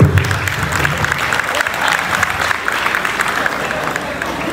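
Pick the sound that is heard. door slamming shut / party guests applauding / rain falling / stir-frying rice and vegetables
party guests applauding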